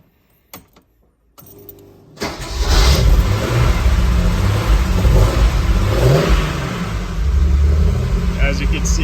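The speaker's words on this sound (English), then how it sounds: "And here's the cold start." A 1965 Mercedes-Benz 230 SL on a cold start: a few light key clicks and rattles, then the engine catches and settles into a loud, steady, fast idle heard up close.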